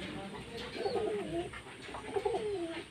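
Two pigeons coo nearby in a pair of soft, throaty rolling calls about a second apart, over a quiet background.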